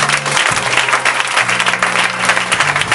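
A church congregation applauds together in a dense, steady burst of clapping lasting a few seconds, with a low hum running underneath.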